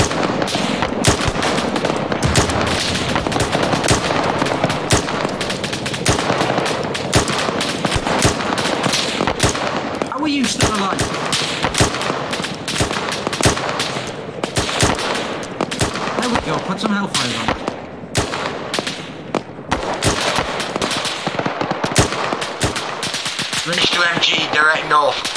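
Sustained machine-gun fire in the military shooter Arma 3, dense bursts of rapid shots running almost continuously for the whole stretch, loud and close with overlapping distant fire.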